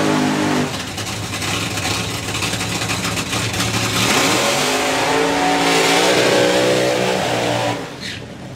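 A drag racing funny car engine revs loud and close alongside another at an FIA drag racing event, a continuous roaring, crackling blare that swells midway and cuts off sharply near the end.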